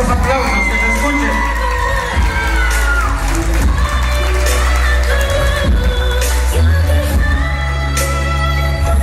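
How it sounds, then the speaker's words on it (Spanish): A crowd at a quinceañera waltz celebration cheers, whoops and shouts, the voices thick and lively beneath loud, continuous dance music. "Esos aplausos, que se escuchen."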